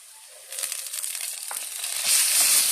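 Ground pork, giniling, hits a hot pan and breaks into a sudden loud sizzle that swells, crackles and grows harsher toward the end, close by with no voices.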